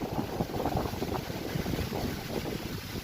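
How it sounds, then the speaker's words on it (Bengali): Strong wind buffets the microphone on a rainy day along a road in Bangladesh, a loud, constant rumbling roar with no speech. "বাতাস অনেক, প্রচুর বাতাস।"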